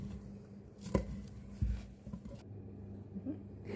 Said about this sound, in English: Here I am cutting up some spring onion as garnish for my carrot and onion soup.